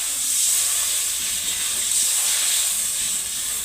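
Water poured onto hot spice paste in a pan for a mrigal fish and eggplant curry sets off a loud, steady, close steam hiss that holds unbroken throughout.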